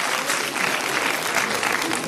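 An audience gives a child loud, dense, continuous applause after a magic trick. The clapping is close and steady and fills the whole moment.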